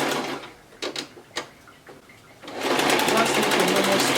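A sewing machine stitches the sleeve hem of a kaftan. Brief clicks come first, then a steady, fast needle rattle runs close and continuous, with a voice speaking over part of it.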